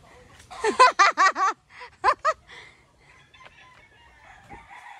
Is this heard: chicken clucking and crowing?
yes